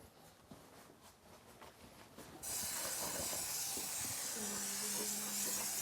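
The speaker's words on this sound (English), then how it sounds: "We're going to use some 2-component spray foam insulation to provide a permanent air seal in this area and to insulate it." A two-component spray foam insulation gun starts after a quiet pause with faint handling, then releases a loud, steady hiss that continues to the end, with a low tonal hum beneath it.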